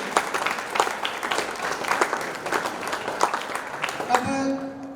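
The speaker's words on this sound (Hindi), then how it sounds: "इन दोनों के लिए मैं चाहता हूं कि आप सभी तालियों के साथ उनका धन्यवाद करिए।" An audience of students at a model youth village assembly at a school claps in thanks, a steady patter of many hands that stops abruptly, leaving a faint hum.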